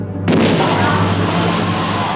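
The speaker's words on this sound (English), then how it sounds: "I felt a large explosion." A large explosion aboard the German liner Wilhelm Gustloff as it is torpedoed at sea, a sudden loud blast that erupts after a brief quiet and rolls on as a sustained heavy rumble.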